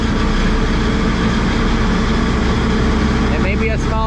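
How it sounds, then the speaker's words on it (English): A small Nissan truck with a 466 engine and turbo drones loudly and steadily up close while it drives through a field, and a voice talks briefly over the engine near the end. "when you hear that turbo, it just brings joy"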